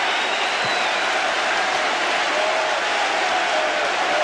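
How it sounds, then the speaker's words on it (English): A stadium crowd applauding and cheering after a goal at a 1994/95 League Cup football match, a steady, dense, loud roar with no break. "Applause from his manager."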